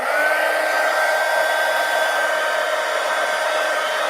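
A hair dryer blows steadily on old art journal pages, a constant loud whoosh with a thin high whine running unbroken throughout, with no talking.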